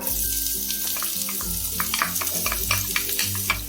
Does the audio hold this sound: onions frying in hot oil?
yes